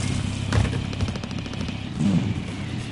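Rapid automatic gunfire rattles through a military video game battle, dense close bursts with a few heavier impacts, loud and continuous over a few seconds.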